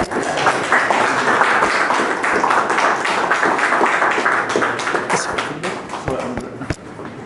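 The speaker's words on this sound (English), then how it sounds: "So if everyone can join me in giving Dalton a round of applause" A large audience at an accounting association training event bursts into dense, sustained applause and clapping, loud and continuous throughout before tapering slightly near the end.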